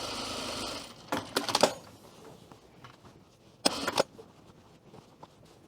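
A sewing machine tacks stitches within the seam allowance of a Cashmerette Elmwood skirt, running in a few short bursts of rapid mechanical whirring with quiet pauses between.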